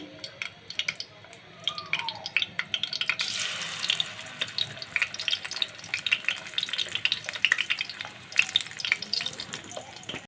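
Raw grated-potato chops fry in oil over lowered heat, giving a continuous bubbling crackle with dense sharp spatters that thicken midway, close and fairly loud, with no voices.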